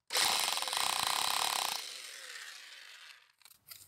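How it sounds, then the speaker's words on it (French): A drill set to hammer mode bores into garden stone, a loud dense rattling grind for about a second and a half that then fades, followed by faint clatter. "Ça se perce assez facilement la pierre comme ça."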